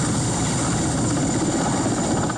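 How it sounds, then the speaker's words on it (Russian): A new Mi-8AMT medical aviation helicopter arriving in Naryan-Mar drones loudly and steadily, its rotor and turbine roar filling the whole stretch with a constant, close, unbroken rumble and no voices. "Экипаж нового вертолета Ми-8 АМТ прибыл в Нарьян-Мар."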